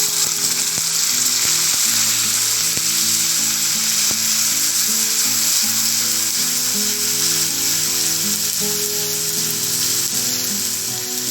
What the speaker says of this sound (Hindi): गुलाबी होने तक भूनेंगे